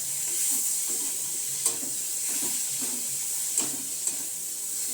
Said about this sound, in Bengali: ডালটা দিয়ে হালকা একটু ভেজে নিতে হবে।